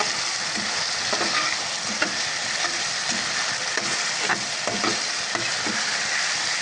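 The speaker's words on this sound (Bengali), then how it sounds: "টমেটোটাকে আমি এখন ভালোভাবে কষাবো" Chopped tomatoes sizzle and fry in oil and spice masala in a pan, a steady close hiss broken by scattered stirring scrapes and clicks throughout, with no talking.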